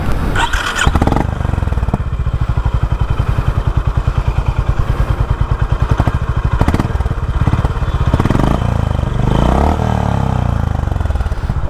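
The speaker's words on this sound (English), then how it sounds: "I just love the sound of this exhaust note." A Honda CB350 RS motorcycle exhaust thumps close and loud in a rapid, even idle pulse, with a brief blip of revving partway through and no talking.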